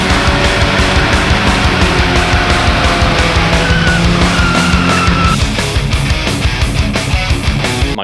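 A turbocharged Volvo 940 passes close by with a loud engine roar and squealing tires that pitch upward as it goes, steady and intense for several seconds.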